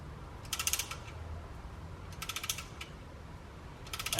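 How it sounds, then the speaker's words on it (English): A ratchet pushing the brake caliper pistons back on a Nissan Skyline's rear brakes, three quick bursts of crisp clicking separated by pauses, close but fairly quiet. "I'm just going to keep ratcheting this back until both those pistons are back into the caliper"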